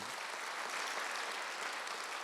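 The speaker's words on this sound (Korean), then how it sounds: "박수로 하나 더 해주세요" A congregation at a Sunday church service applauds in a continuous, even wash of many hands clapping, with no voices rising above it.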